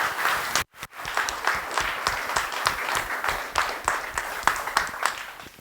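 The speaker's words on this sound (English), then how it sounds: "let's do one more round of applause for our speakers tonight" Audience applause for the evening's speakers at a Cyberspectrum meetup, steady clapping that breaks off for a brief moment near the start, then continues at an even level with sharp individual claps standing out.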